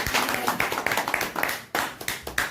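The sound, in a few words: applause for Madhubala madam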